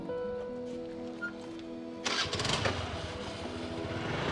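A quiet idle hum gives way to a Honda Activa scooter engine catching and starting, then running steadily nearby.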